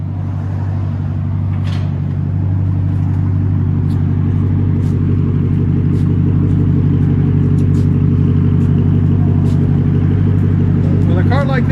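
A 1998 Lexus GS 400 with true dual straight-pipe exhaust, an X pipe and high-flow cats gives a loud, deep, steady engine rumble up close that holds for the whole stretch.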